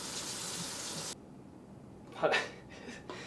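Water rushes from a tap onto an etched Viking sword blade during a quick wash, loud at first, then cutting off into quieter splashing and trickling with a brief spatter.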